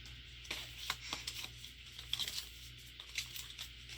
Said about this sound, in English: Cut your circle about halfway.